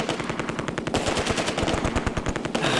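Vickers and Bren machine-gun fire in the Close Combat video game, a dense, rapid stream of close automatic bursts that keeps going without pause.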